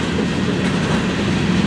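A freight train of 64-foot Gunnison railcars, each carrying the load of four semi-trailers, rolls past close by with a loud, steady rumble and continuous rail clatter.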